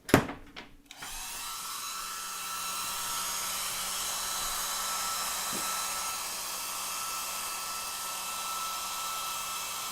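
A hair dryer blows steadily with a constant whooshing whir after a brief clatter as it switches on, close and continuous.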